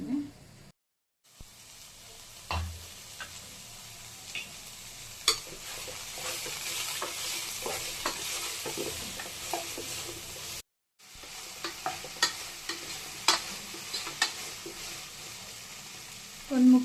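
Green chillies and ridge gourd roast in a pan over a medium flame, giving a steady crackling sizzle with scattered pops and utensil taps, close and continuous apart from two brief breaks of silence.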